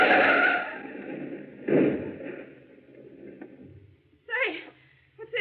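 A car screeches and skids as another vehicle runs it off the road in a 1942 radio drama. A long tire squeal opens, a second skid follows, then engine rumble and a brief voice.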